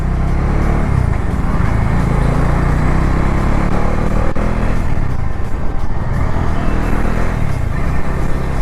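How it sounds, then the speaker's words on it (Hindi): Dense road traffic near Ghaziabad gives a loud, steady roar of car and motorcycle engines passing close by, with no pauses. "यहाँ पे भी सेम टू सेम कंडीशन है कि वही ट्रैफिक।"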